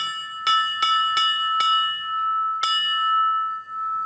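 A cast bell struck five times in uneven succession, each strike ringing with a sour, out-of-tune shimmer that lingers and overlaps, loud and close.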